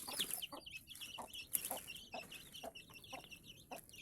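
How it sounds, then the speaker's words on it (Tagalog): Rhode Island Red crossed with native chicken: a hen with her chicks, giving soft repeated clucks close by, with high chick peeps scattered through and no talk. "So ito yung hen tsaka yung yung mga sisiw niya."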